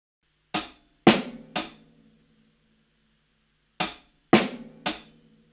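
Drum groove in seven with the hi-hat notes removed where the snare lands, heard as two sets of three crisp, ringing hits separated by a pause of silence, close and unaccompanied.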